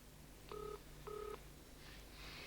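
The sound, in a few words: telephone being dialed in a TV episode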